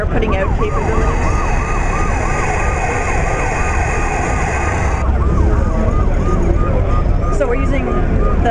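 A fire engine siren sound effect from an interactive Lego demo at CES 2011 wails continuously and loudly, with repeating rising and falling sweeps and talk mixed in underneath.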